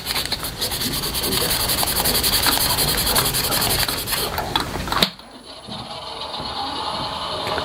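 A steady, scratchy rubbing of 400- to 600-grit sandpaper against a wooden whistle runs for several seconds, then stops abruptly, leaving a quiet room with faint background hum.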